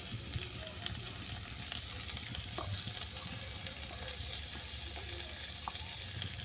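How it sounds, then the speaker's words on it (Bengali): Potatoes and taro fry with onions in a pan, giving a steady, close sizzle that runs the whole time with a few faint stirring clicks and no voices. "আলু আর কচুটা পেঁয়াজের সঙ্গে ভালো করে ভেজে নেবো"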